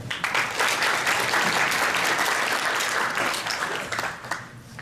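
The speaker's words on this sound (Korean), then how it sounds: "큰 박수로 맞아주세요." An audience at the DroidKnights 2019 Android developer conference gives sustained applause to welcome a speaker, steady, close crowd clapping that fades near the end.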